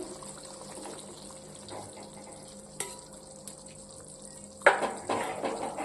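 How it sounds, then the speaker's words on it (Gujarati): Onions tipped into hot oil in a pan for a Kathiyawadi whole-onion curry with special masala, raising a sudden loud sizzle late in the clip that keeps crackling after a quiet kitchen background. "હવે આપણે ડુંગળી નાખીશું"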